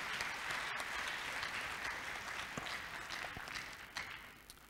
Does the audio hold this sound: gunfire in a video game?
no